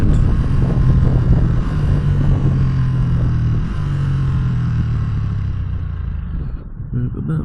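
Motorcycle engine heard while riding, a steady drone with wind buffeting, pitch dipping and climbing around gear shifts, fading slightly near the end.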